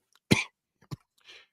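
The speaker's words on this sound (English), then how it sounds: "Oh my God, why am I coughing so much?" One person coughs up close, a sharp harsh cough followed by a shorter second cough and a faint breathy throat sound, in an otherwise quiet room.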